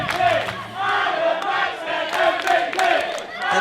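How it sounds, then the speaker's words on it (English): A large wrestling arena crowd roars and chants for the champion's entrance at a heavyweight title main event, loud and continuous with swelling waves of shouting. "And listen to this crowd."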